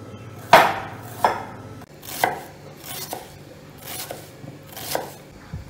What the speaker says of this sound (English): So for the sauce, we start with cutting the ginger.